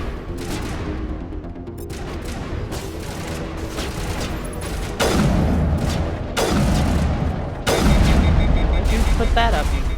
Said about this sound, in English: I haven't used an assault rifle in so long.